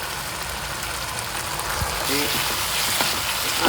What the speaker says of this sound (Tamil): தக்காளி கொஞ்சம் எண்ணெயில் வெந்து வரட்டும்